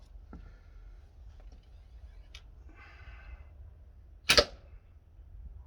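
Arrow shot from a compound bow at a target, with a single sharp loud crack of the shot and impact near the end, preceded by faint quiet handling noises.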